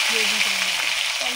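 Black cumin seeds sizzle in hot mustard oil as tempering for a small-fish curry, a loud, close, steady frying hiss under someone talking.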